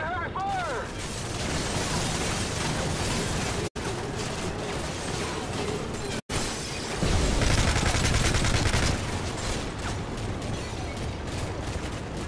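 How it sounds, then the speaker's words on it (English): Gunfire and explosions in the video game Call of Duty MW3: dense bursts of rapid shots and heavy blasts, with a sharp swell of louder fire late on and game voices calling out over the combat. "Taking heavy fire."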